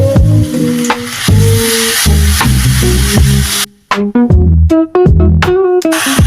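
Spice masala sizzling loudly in a pan for an egg chili cabbage dish, a dense frying hiss that cuts out abruptly midway into scattered crackles and spits, with a tonal hum underneath and no talking.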